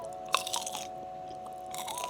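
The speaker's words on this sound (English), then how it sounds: "Do you hear that crunch?" Crispy tofu is bitten, giving a sharp crunch followed by a burst of crackling chews, then a pause and another round of crunchy chewing, close and clear over a faint steady hum.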